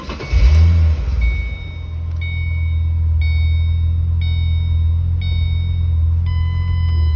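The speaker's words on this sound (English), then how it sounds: "Rev it just a little bit more" A 2005-2014 V6 Ford Mustang engine starting up and settling into a loud, steady idle rumble nearby, with a brief rev at the start and a chiming electronic beep repeating about once a second.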